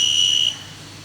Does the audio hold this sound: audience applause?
no